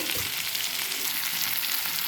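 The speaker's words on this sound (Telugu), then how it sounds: "సిమ్లో పెట్టి వేయించుకున్నాం" Bitter gourd and onions fry in a pan with a dense, steady close sizzle, briefly and with no voices.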